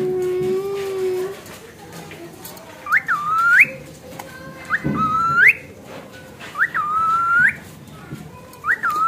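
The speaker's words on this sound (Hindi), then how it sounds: "ये हमारा रोकटल सीटियां बजा रहा है" A pet cockatiel whistles over and over, rising swooping calls repeating every second or two, close by, with a voice talking in between and beneath the whistles.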